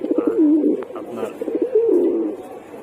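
Pigeons in a sky pigeon loft coo in deep, rolling, repeated calls, close and clear, with a couple of overlapping coo phrases and a brief wing or shuffle noise between them.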